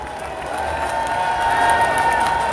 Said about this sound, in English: How about that crowd?